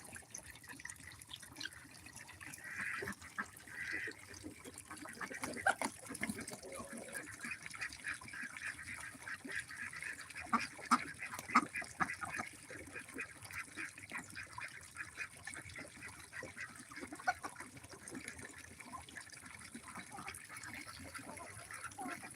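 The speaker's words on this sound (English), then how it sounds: "One of our female ducks is bathing, and the rest of them are" Ducks quacking from a farmyard flock resting in mud while a female bathes, with intermittent nasal calls over steady water and outdoor background noise.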